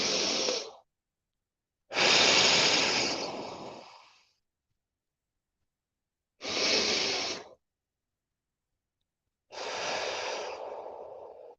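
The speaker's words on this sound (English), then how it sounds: "So let me just breathe really quick." Slow, deep breaths in a guided breathing exercise: four long airy inhales and exhales, each lasting a second or two, separated by pauses of silence, close and fairly loud with no talking.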